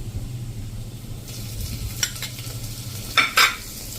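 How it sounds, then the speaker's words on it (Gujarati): Ginger-chili paste dropped into hot oil with asafoetida, the sizzle swelling suddenly and then hissing steadily, with a couple of brief scraping stirs near the end. "હવે એમાં આપણે 1 ટીસ્પૂન જેવું આદુ મરચાંની પેસ્ટ કરી છે એને નાખી દેશું"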